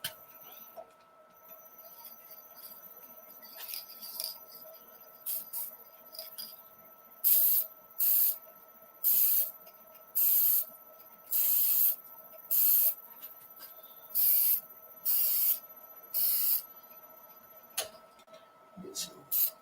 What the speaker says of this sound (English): Let's get our spray lacquer, or our polyurethane.